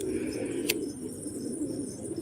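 Domestic pigeons in a loft coo in a steady, continuous low murmur, fairly close, with a brief sharp sound partway through.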